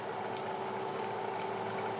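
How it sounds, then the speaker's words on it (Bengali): Potato-stuffed rolls frying in hot oil, a steady close hiss and bubbling sizzle that stays constant throughout with no pauses. "এখন আমি ভেজে নেব।"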